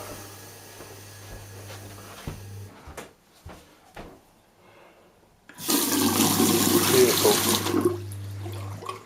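Hot water from a shower pump system runs loudly in a bathroom, a strong steady rush that starts abruptly after quieter knocks and a low pump hum, then continues alone.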